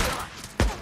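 A single loud, close gunshot from the zombie-survival video game Days Gone cracks out near the end after a brief stretch of quieter game noise.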